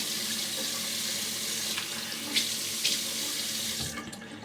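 A tap runs steadily into a sink to wet the face before shaving, a continuous close hiss of flowing water with a few small splashes and a slight change in the flow near the end.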